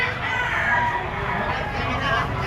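Green-legged stag rooster, a mayahin, at a Lipa City, Batangas game farm, crowing loudly close by in one drawn-out call over a low background murmur.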